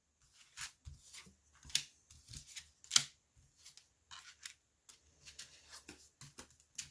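Oracle cards are drawn from a deck one after another, giving soft, close, irregular card slides and flicks with brief crisp snaps in a quiet room.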